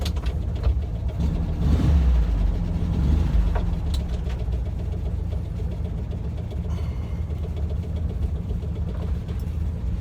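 A Volkswagen car engine idles and then pulls away on a drive, a loud, close, continuous low rumble that swells slightly as it accelerates before settling into a steady drone, with no voices.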